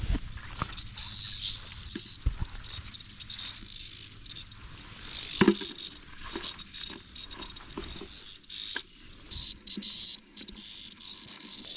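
Steady rain patters outdoors on a summer day with cicadas about, a dense hiss running throughout with a few louder close knocks and taps.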